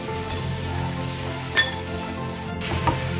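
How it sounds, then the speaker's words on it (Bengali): Taro (kachu) sizzles steadily as it fries with a hilsa head in a pan, the hiss continuous and close with a few soft stirring knocks and a brief burst near the end as water goes in. "জল দিব"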